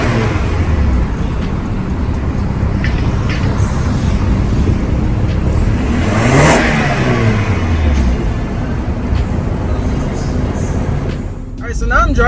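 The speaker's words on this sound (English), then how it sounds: "Alright, so now I'm driving. The car is real smooth." A BMW X4 with xDrive drives along the road, its engine humming and accelerating in a smooth steady rise, with road and cabin noise throughout and a voice talking over it.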